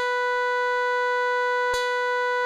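A synth lead from a trap beat plays unprocessed, a steady sustained tone with bright harmonics held loud and unbroken, with a faint low pulse underneath and a brief click near the end.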